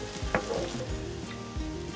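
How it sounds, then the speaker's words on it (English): Swiss chard frying in hot oil in a pan, with a steady close sizzle and occasional scrapes and knocks as the leaves are stirred. "You do want to continue to stir them to make sure that they cook evenly, especially if you have a lot of chard in the pan"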